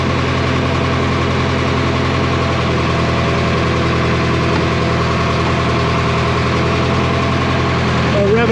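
A Caterpillar D4H bulldozer's diesel engine idles steadily and loud up close, a continuous low rumble with faint mechanical knocking that rises slightly near the end.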